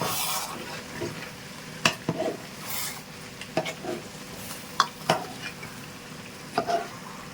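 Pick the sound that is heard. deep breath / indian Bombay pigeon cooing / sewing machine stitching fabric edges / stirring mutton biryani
stirring mutton biryani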